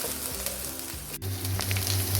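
Onion paste fries in hot oil with a dense, continuous sizzle and a low hum underneath, steady and close throughout.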